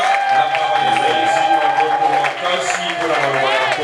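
A church congregation applauds, with dense, steady clapping filling the whole stretch and a voice carrying over the crowd noise.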